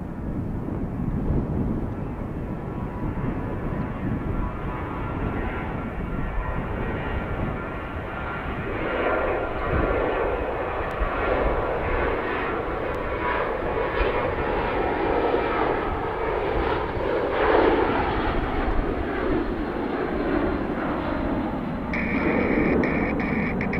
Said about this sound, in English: Summit Air departing to somewhere.